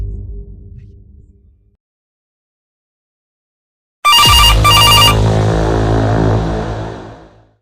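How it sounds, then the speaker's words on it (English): A phone rings loudly and abruptly on a table, shrill repeating ringtone tones over a harsh buzzing rattle that sustains for a few seconds before fading, after a stretch of silence. "Then her phone buzzed violently on the table behind her."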